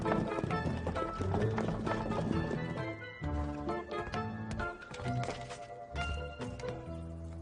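A horse-drawn carriage races along with hooves clip-clopping rapidly over a loud, busy dramatic music score, the rhythmic hoofbeats blending into the orchestral accompaniment throughout.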